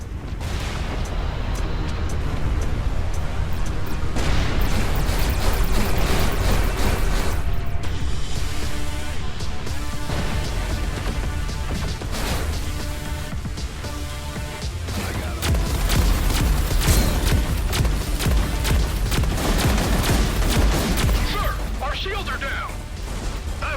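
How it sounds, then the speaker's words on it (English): Torpedo launches and explosions in the space combat game Everspace 2, dense booms, crashes and bursts layered over a loud continuous rumble and mechanical whirring, with voices talking throughout. "More torpedoes were just fired."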